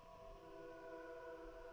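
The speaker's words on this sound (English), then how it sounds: "you can hear the sirens in the background" A faint, steady wailing siren tone drones in the background of a movie scene, sustained and distant, with no voices.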